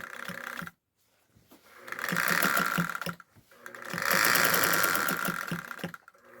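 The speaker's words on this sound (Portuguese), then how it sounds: "Vou começando pelo meio, eu vou costurar os meios" A sewing machine stitches the middle seams of a fabric piece in two loud, steady mechanical runs of rapid stitching, separated by a short pause, with no talking.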